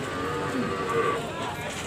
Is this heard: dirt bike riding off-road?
no